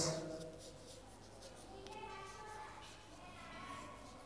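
A pen scratches softly across paper in steady, close strokes while working a class 6 maths problem on factors, faint against a quiet room.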